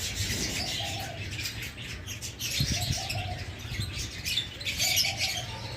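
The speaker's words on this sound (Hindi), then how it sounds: "जंगली फाख्ता की आवाज़ सुनाता हूँ मैं आपको।" A wild dove (fakhta) coos in repeated soft phrases, three clear bouts of low hollow cooing at moderate distance over a bed of outdoor bird chirps and background noise.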